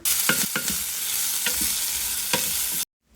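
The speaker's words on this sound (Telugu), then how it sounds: "నెక్స్ట్ ఆనియన్స్ వేసి కొంచెం బాగా ఫ్రై చేసుకోవాలి." Onions frying with spices for an Andhra-style mutton curry, a loud steady broadband sizzle broken by a few sharp scraping stirs, cutting off abruptly near the end.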